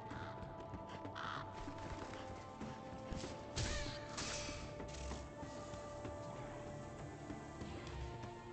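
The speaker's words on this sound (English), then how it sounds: "Stupid crow." A crow caws several times over a steady ambient soundscape in Dragon's Dogma: Dark Arisen, with occasional hoof-like clops and a brief crash midway; no talking.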